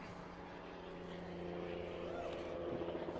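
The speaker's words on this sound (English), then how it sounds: "You can hear the helicopter" A helicopter flies near Chesterfield Airport beside a wiffleball field, a steady low rotor drone that grows slightly louder toward the end, with faint voices in the background.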